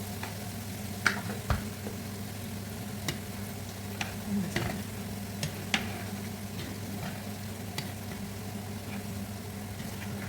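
Peanuts frying in a pan at home, a steady low sizzle with scattered sharp ticks and clicks as the nuts are stirred and shifted, close and fairly quiet, with no talking.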